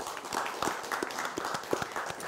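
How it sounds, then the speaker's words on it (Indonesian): Scattered handclaps from a studio audience on a televised talk show, a loose run of sharp claps at moderate volume over a faint room hum. "Tepuk tangan."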